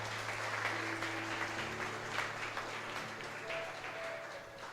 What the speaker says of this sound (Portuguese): Aplaudam o Senhor todos vocês.